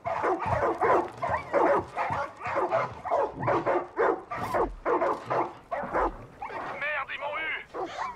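A dog in the video game Far Cry 5 barks repeatedly in a series of rhythmic barks and yips, fairly loud, while someone talks over it throughout.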